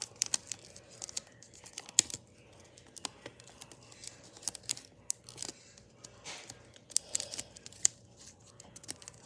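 Paper being creased and folded for an origami butterfly, giving soft, close crinkles, light taps and scattered rustles at an irregular pace, with no talking.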